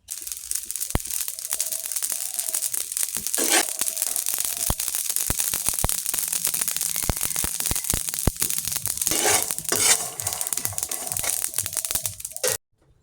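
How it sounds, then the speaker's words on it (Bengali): Spice ingredients dry-roast in a pan without oil, producing a dense, continuous crackle with scattered sharp pops and scraping, close and fairly loud, with no one speaking. "এই 10 মিনিটে আমি বাকি 3টা উপকরণ ভালোভাবে ভেজে নেব তেল ছাড়াই"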